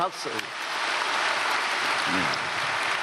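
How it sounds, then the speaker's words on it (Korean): A church congregation at a special dawn service breaks into applause, a dense, even roar of clapping that swells after a brief spoken moment and holds steady to the end. "박수"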